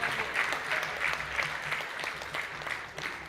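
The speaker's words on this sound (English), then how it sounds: "Another round of applause, please." Steady applause from an audience at a national journalism awards ceremony honoring the journalist of the year, a continuous patter of many hands heard from some distance at moderate level.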